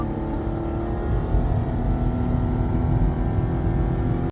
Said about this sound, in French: Donc, j'accélère. Accélère un peu.